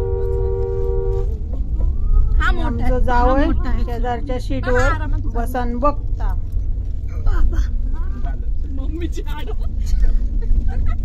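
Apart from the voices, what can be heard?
Mahindra Scorpio SUV engine climbing a steep hill road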